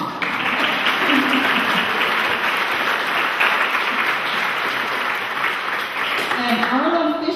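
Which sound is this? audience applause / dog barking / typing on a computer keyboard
audience applause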